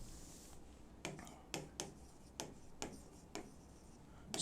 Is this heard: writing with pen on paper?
yes